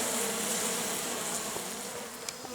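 A dense, steady buzz of many honey bees, close and continuous, with a few faint clicks and taps.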